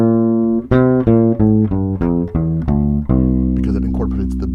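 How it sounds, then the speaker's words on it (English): A bass plays the C Mixolydian scale as a run of separate plucked notes, each clear and resonant, ending on a longer sustained note, with no talking over it. "So C Mixolydian would sound like this."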